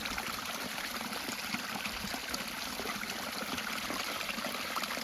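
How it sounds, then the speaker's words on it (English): Mountain stream running down past a trail shelter from a spring, a steady close rush and trickle of water that holds constant throughout with no voices. "That must be the stream going down right past the shelter we were just at."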